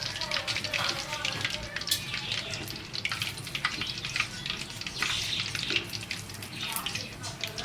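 Chicken 65 frying in hot oil, a constant bubbling sizzle with crackles and pops, moderately close, while a person talks over it.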